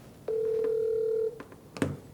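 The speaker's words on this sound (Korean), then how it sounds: "우리 전화 한번 해볼까요?" A telephone ringback tone sounds while a call is being placed: one steady, sustained tone for about a second, followed by faint clicks and a brief line noise as the call connects.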